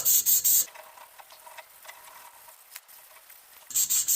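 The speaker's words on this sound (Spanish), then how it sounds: "Ahora vamos a darle un poquito de lija." Soft, continuous scratchy rubbing of fine sandpaper against a metal brake drum, a brushing rasp between louder bursts of noise at the start and end.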